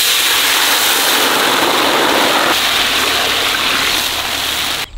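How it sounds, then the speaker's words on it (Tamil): Five litres of water pour in a steady, loud gushing stream into a pot that already holds oil, made while cooking jackfruit kesari; it runs continuously with no talk over it. "அது கூடவே 5 லிட்டர் தண்ணி ஊற்றிக்கலாம்"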